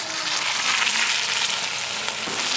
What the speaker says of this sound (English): now that it is seared, I'm going to add in the beef broth